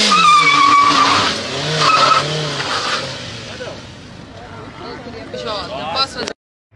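A police car's engine revs high while tires skid and squeal across pavement under the handbrake, loud and continuous, with a voice talking over the noise.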